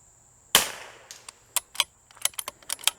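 A single sharp, close rifle shot from a CZ 457, fired through a bush, with a quick decaying tail, followed by a scatter of faint clicks and rattles.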